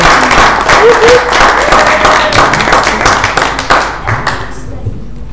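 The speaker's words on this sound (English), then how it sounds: "Could you give a round of applause?" Loud, close applause at an international business conference, a crowd clapping briskly with some sharp individual claps and thumps, easing off toward the end while a few voices murmur underneath.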